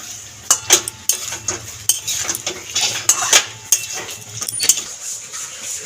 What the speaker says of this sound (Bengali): দিয়ে এবার মশলার সাথে মিলিয়ে নেব আস্তে আস্তে নাড়া দিয়ে।